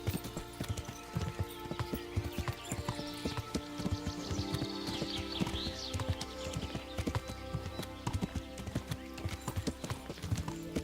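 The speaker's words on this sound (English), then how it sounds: "Oh, it's the horse making that noise." Horse hooves clip-clop steadily in the open forest of the medieval video game Kingdom Come: Deliverance, with an occasional whinny rising over a dense layer of game music and ambience.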